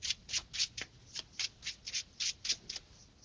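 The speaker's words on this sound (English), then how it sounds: "I'll wait for you to shuffle." A deck of Transformers trading cards is riffled and shuffled in a quick run of about a dozen crisp, papery bursts, close and clear, with no talking.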